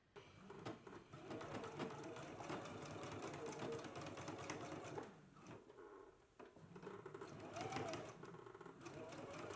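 A sewing machine stitches a 1¼ inch seam allowance across folded fabric, its steady whirring running almost continuously with a brief pause partway through, mixed with some background noise.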